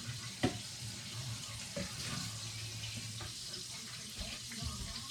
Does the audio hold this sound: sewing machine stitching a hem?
no